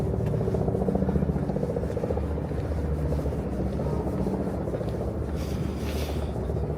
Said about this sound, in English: Do I hear a helicopter?